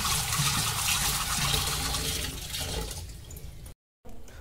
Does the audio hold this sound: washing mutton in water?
yes